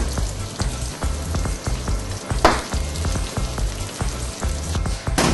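Oysters fry in a pan at 180 degrees, giving a steady, close crackling sizzle with dense popping that carries on throughout.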